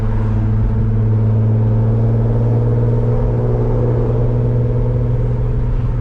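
A 400whp Infiniti Q50s drives at night with a loud, steady exhaust drone and deep engine rumble filling the cabin, no voices.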